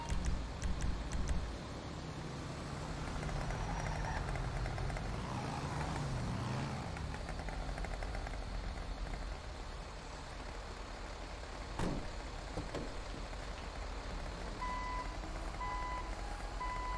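A vehicle in a video game reverses with a rumbling engine and repeated electronic reversing beeps, set against a dense, steady noise bed with no talking.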